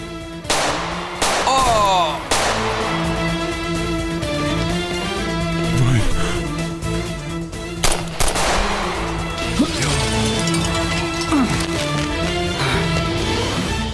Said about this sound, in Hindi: ठीक है, फायर करो इस पर, मार डालो इसे।